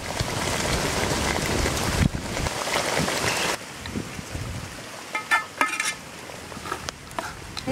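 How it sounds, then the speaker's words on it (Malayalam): A Kuttanadan duck curry cooks in a pot, with a dense bubbling, hissing boil that drops off partway through, followed by quieter scattered pops and light clinks of the pot, close and without speech. "നമ്മുടെ താറാവ് തിളക്കുന്നു കേട്ടോ."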